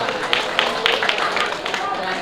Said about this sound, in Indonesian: Beri tepuk tangan yang meriah untuk Bapak Joko Martoyo.